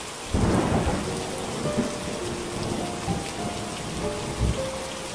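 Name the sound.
rain and thunder sound effect in a story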